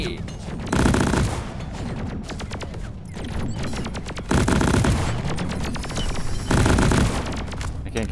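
Automated turret fire in Deep Rock Galactic on a Hazard 5 Industrial Sabotage mission: three loud bursts of rapid machine-gun shots over a busy, continuous game soundscape.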